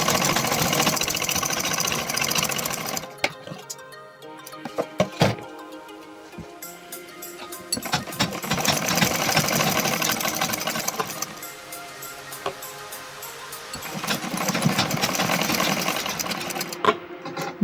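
Sewing machine stitching a kurta sleeve to the kurta body fabric in bursts of rapid mechanical whirring and ticking, with short pauses and handling noises between runs, close and clear.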